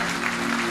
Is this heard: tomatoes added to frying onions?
no